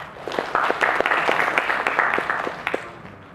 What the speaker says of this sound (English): And can we give him a round of applause?